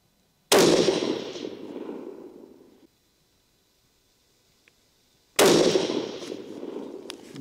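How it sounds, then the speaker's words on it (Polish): Two loud, sharp rifle shots from an HS Produkt VHS fired at a target on an outdoor range, each a close crack followed by a long fading echo, separated by several seconds of quiet. "Przykryjemy cel muchą i damy 5 strzałów."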